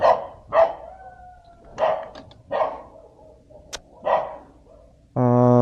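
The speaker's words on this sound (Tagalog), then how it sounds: "May aso pa naman dito." A dog barks in several separate loud, close bursts spaced across the moment, with brief tonal sounds in between and a steady harmonic hum starting near the end.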